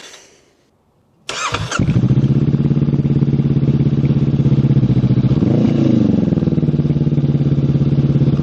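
Honda NX500 fitted with a GR Moto exhaust, baffle removed, starts up and settles into a loud, steady, aggressive idle, with one brief rev blip partway through.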